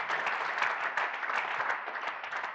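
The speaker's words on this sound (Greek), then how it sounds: "Ας δώσουμε ένα δυνατό χειροκρότημα για τον Κύριό μας Ιησού Χριστό" A congregation gives hearty applause for the Lord Jesus Christ, a steady wash of many hands clapping close by, holding level for a few seconds before easing slightly.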